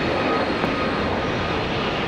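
An airliner's jet engines at Brisbane Airport make a steady, broadband roar that holds loud and even throughout with no breaks.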